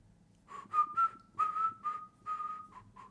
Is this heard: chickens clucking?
no